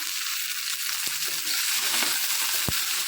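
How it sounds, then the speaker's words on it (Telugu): Green chillies frying in hot oil for an ivy gourd chutney, giving a dense, close, continuous sizzle with a few faint clicks of a utensil against the pan. "మంచి పచ్చివాసన పోయే వరకు వేయించుకుందాం"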